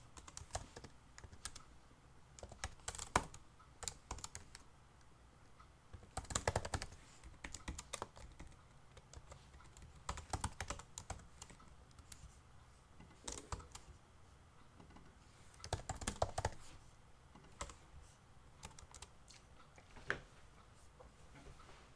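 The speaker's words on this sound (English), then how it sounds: "I can type." Someone types on a computer keyboard, quiet and close, in uneven bursts of key clicks with short pauses between them.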